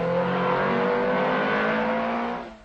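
A Saab rally car from the 1978 Rally of the Danube powers along a mountain stage, its engine a loud, sustained drone that holds steady before fading at the end.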